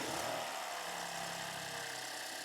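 A freshly rebuilt BMW engine idles steadily just after startup, a continuous smooth mid-pitched hum with a faint mechanical whir, close and fairly loud, with no talking.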